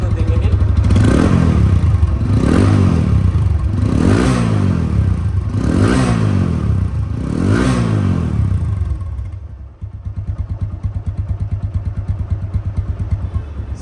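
A second-hand TVS Apache RTR 160 2V motorcycle engine, about 5,000 km old, revved close up in five rhythmic throttle blips, each rising and falling, before dropping to a steady, even idle.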